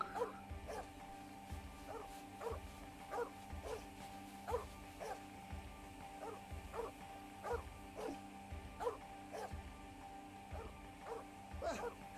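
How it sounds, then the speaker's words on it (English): Dog barking in the video game The 39 Steps, a regular series of sharp, moderately distant barks repeating about every second over a steady low background hum. "It would have been alright but for that infernal dog."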